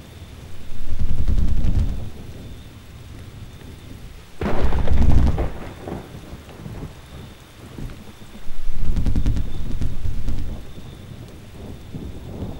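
Rolling thunder booms in three loud, drawn-out waves over steady rain falling on a surface, with no voices, at night.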